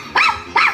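A dog gives two sharp barks in quick succession, close and loud, with nothing else around them.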